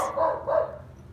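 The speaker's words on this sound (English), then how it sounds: "He's barking at a squirrel." A dog barks twice in quick succession at a squirrel outdoors, close and fairly loud, with the two sharp barks spaced about a third of a second apart and a quieter tail afterward.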